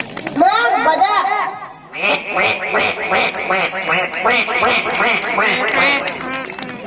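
A six-year-old child imitates a duck's quack with the voice, giving a rapid run of nasal quacks after a short opening call.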